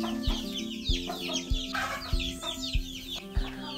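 Chickens of mixed colours in a productive laying flock cluck and squawk repeatedly and close by, with steady low thumps sounding underneath.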